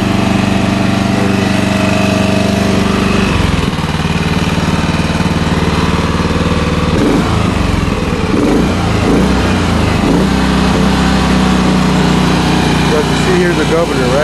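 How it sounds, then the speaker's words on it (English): A Hangkai 6 hp air-cooled outboard engine runs steadily throughout, a loud, continuous mechanical drone with a brief dip and some rhythmic variation partway through, heard up close with a voice talking over it. "let me go ahead and crank it for you guys."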